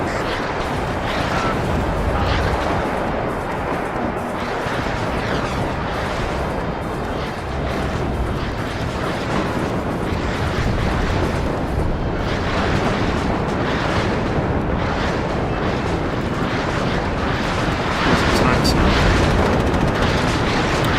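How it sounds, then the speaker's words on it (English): A rapid MLRS rocket artillery barrage in the WARNO war game, a dense continuous roar of overlapping booms and blasts that fills the whole stretch without pause. "that MLRS barrage just completely stopped that push"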